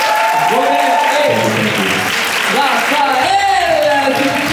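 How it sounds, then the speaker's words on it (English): Loud crowd applause for actors Ronen Rubinstein and Rafael Silva at a fan event, clapping and cheering that runs throughout while voices and whoops rise over it. "On les applaudit bien fort, s'il vous plaît."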